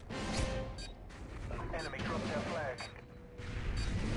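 Grenade explosions in a multiplayer capture-the-flag shooter on the Scrapyard map, heavy booms and crashing bursts mixed in with game noise and people talking.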